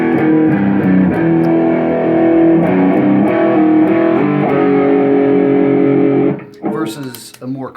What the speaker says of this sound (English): We have a really sizzly kind of modern distortion here.